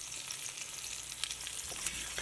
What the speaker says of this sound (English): That's searing. That's locking in the flavor. That is shallow frying. We just frying them on both sides.